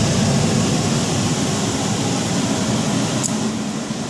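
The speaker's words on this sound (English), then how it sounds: "a minute and 4 seconds after the exchanger heats up, of course the blower fan motor comes on" A Lennox 80MGF4 gas furnace's blower fan motor runs at a steady, loud broadband whoosh of moving air, constant throughout with no talking.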